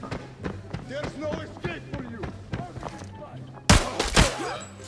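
AK rifle fire in the mobile shooter Free Fire: scattered shots under steady talk, then a sharp loud burst near the end.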